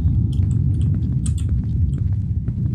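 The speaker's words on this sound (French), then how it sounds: "c'est le frigo, c'est le bruit du frigo." Low rumbling drone of a refrigerator heard in a horror video game, steady and dense in the low end, with faint clicks and rustles scattered over it.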